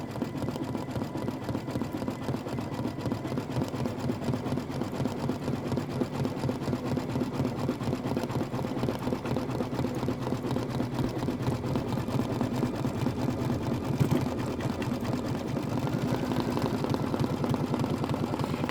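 Embroidery sewing machine stitching the stem detail of a Kimberbell bunny design in celery-colored thread, a steady close mechanical whir with fast needle pulses running continuously with no talk.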